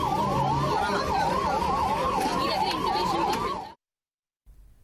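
A 108 ambulance siren wailing in a fast, repeating up-and-down sweep, loud and close over road noise, cutting off abruptly near the end.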